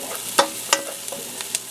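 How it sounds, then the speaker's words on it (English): Chicken fries over medium heat in a pan, with a soft sizzle under a few sharp scraping and clacking stirs spaced irregularly, close and alone. "So we're just frying this up."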